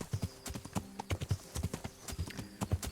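Horse hooves clip-clop steadily in the medieval game Kingdom Come Deliverance, a brisk, even rhythm of loud, close hoofbeats with no voices.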